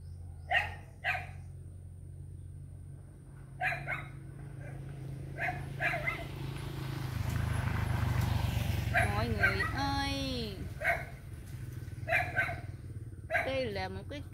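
A dog barks in short sharp bursts, close by, spread over the clip with pauses, whining yelps near the end, and a rumbling background swell in the middle; a person speaks at times.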